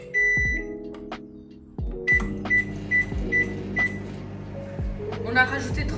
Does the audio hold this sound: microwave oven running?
yes